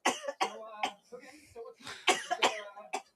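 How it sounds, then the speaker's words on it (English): Throat clearing and coughing during a World Cup match watch-along, several short rough bursts close by mixed with voiced sounds. "Was you clearing your throat?"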